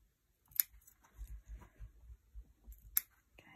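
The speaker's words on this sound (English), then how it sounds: "we're actually going to trim these off." Scissors trimming small pieces off, with two sharp snips separated by soft rustling handling sounds, close and quiet with no talking.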